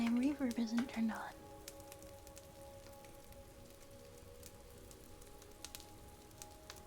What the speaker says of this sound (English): I love the sound of the rain falling,